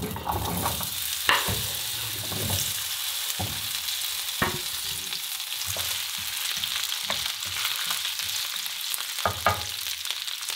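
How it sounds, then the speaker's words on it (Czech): Potato pieces sizzle and crackle in a hot pan where sausage was just browned, a continuous frying hiss broken by occasional stirring clinks and scrapes. "Brambory restuji tak dlouho, dokud je mírně nezačnou zlátnout."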